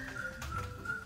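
A person whistles a cheerful tune, the steady melodic tone holding and shifting pitch briefly over a faint background.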